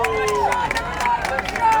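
Spectators from the Mamaroneck crowd heckling at a boys varsity soccer game, brief shouted voices rising over a low hubbub of the gathered students.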